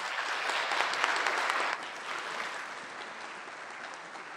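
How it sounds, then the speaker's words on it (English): Audience applause at a school convocation, dense loud clapping for about two seconds that then thins and fades to lighter, continuing applause. "Let's give a warm round of applause to Mrs."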